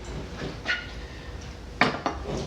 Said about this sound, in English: I'm gonna get that bacon fat out of here I was telling you about, the bacon grease